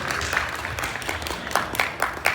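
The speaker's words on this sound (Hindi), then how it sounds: "ताली बजा दो" Audience applause at a spoken talk, a steady patter of many hands clapping at moderate distance with a few sharper claps standing out, fairly soft overall and with no talk over it.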